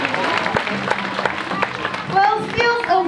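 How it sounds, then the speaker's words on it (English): An audience at Taronga Zoo claps for Mitchie the seal in a steady patter of many hands, with cheers and voices mixed through it at close range. "Another big clap for Mitchie"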